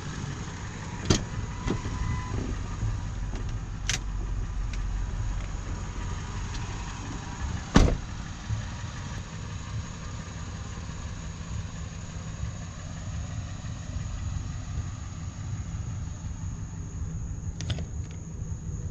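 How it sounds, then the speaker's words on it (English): A 1999 Ford F250 4x4 pickup with a V8 engine idles smoothly and steadily for the whole stretch, with a sharp click or thump partway through and no one speaking. "Just a very smooth running truck."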